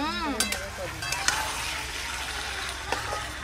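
Chicken pieces frying with spices in a pan for chicken kosha, stirred with a utensil: continuous close sizzle with scraping strokes and a few clinks, a voice briefly heard at the start.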